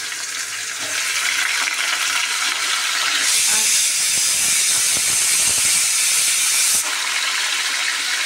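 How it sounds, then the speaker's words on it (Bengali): Pressure cooker hissing steadily while boiling dal on a home kitchen stove, a loud continuous steam rush that swells sharply in the middle stretch before settling back, with no voices. "এদিকে হচ্ছে প্রেশারে আমার ডাল সিদ্ধ হচ্ছে গো"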